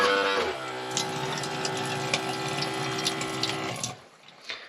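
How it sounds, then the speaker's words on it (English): A 5-gallon water dispenser on a 3D printed base runs water into a camper sink in a DIY aluminum truck camper, a steady close pump hum with flowing water that stops near the end. "So this is a 5-gallon water dispenser, and it is on top of a 3D printed base."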